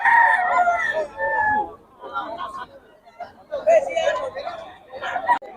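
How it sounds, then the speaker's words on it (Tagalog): Chickens and a rooster brought from a farm crow and cluck loudly close by in several bursts, mixed with lively human chatter in the background. "Ang ganda ng mga manok ni Boss Gaga."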